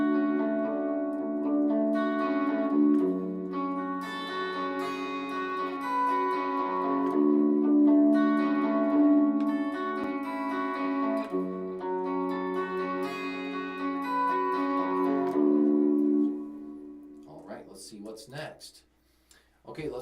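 Guitar chord with the pinky flattened across two adjacent strings, strummed and sustained several times, ringing tones, with a shift in the last seconds.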